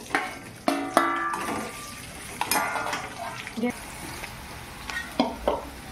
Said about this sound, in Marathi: आता आपण शिमला मिरची फ्राय करूया.